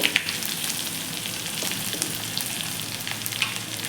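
Hot oil crackles and sizzles steadily with small pops and spatters as spices and a pinch of asafoetida are tempered, a close frying sound with no talking.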